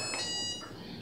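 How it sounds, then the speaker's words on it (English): A haircut timer alarm sounds, a bright electronic tone ringing steadily and fairly loud for a moment before tapering slightly. "that was the alarm on the haircut timer."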